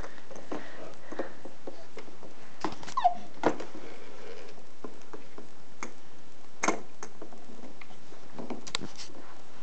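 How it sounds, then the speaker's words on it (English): A small dog whimpers and yips in short, faint bursts scattered across a quiet indoor room, with a few sharper tick-like clicks in between and long near-silent stretches. "It's a dog?"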